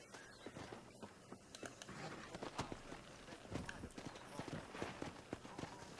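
Hooves clip-clop from horses trotting in Red Dead Redemption, a busy rhythm of soft repeated hoof hits continuing throughout at moderate distance.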